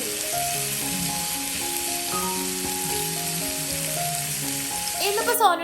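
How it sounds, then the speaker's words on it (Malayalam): Chicken frying in coconut oil, a dense continuous sizzle under background music tones, ending in a brief louder clatter. "ഞാനിവിടെ വെളിച്ചെണ്ണയിലാണ് കേട്ടോ ഈ ചിക്കൻ ഫ്രൈ ആക്കി എടുക്കുന്നത്"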